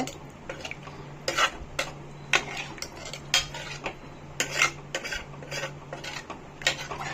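A spoon scrapes and clinks against a metal pressure cooker in irregular strokes while stirring chicken gravy, with a steady low hum underneath.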